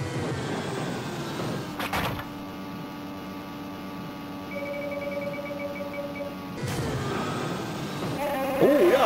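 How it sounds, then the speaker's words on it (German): In the 1995 Amiga racing game XTreme Racing, a killer sheep lets out a synthesized bleat over steady engine drone and electronic hum, with brief crashes at the start and near the end. "Das Schaf, das Killerschaf, das ist sowas wie eine Lenkrakete."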